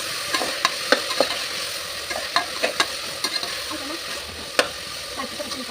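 Beans, carrots and potatoes frying in oil in a pan for vegetable green pulao, a continuous close sizzle broken by frequent light scraping taps of a spatula.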